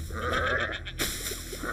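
A sheep bleats in the video game Bang On Balls Chronicles, a short wavering cry heard twice in quick succession against faint game background sound.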